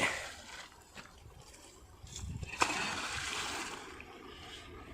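Water flows and splashes steadily while vegetables are watered in a field, with a brief louder splash partway through over a low, continuous wash.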